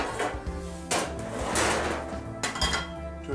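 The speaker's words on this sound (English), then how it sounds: "is I get a couple pans going." Metal pans clanking and scraping as they are set on a stove in a home kitchen while making breakfast crepes, several separate knocks and clatters at close range.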